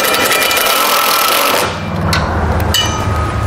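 Power driver running a self-tapping screw with a ring terminal into the frame of a 2018 Ford, a loud, close, buzzing whir that shifts pitch partway through as the screw seats.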